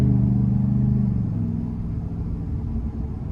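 A 2024 GMC Sierra 1500 Denali Reserve's 6.2-liter V8 engine idles with a deep, throaty rumble, loud and close, settling slightly lower after the first second.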